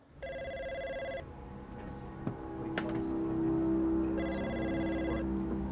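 A telephone rings in two distinct bursts of bright, electronic trilling, separated by a quiet pause with some faint background noise, fairly close and clear.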